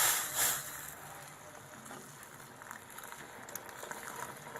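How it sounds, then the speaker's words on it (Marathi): Hot milk and water poured into semolina cooked with pineapple pieces make a brief, louder splash at first, then a quiet, bubbling liquid sound. "आता मी दूध आणि पाणी जे गरम केले ते मी ओतून घेणार आहे याच्यामध्ये।"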